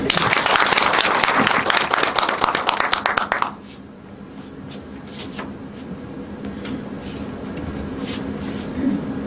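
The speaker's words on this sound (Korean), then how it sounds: "큰 박수." Audience applause at a library's morning lecture and concert event, a loud, dense burst of clapping for about three and a half seconds that stops abruptly, leaving quiet room tone with scattered faint noises.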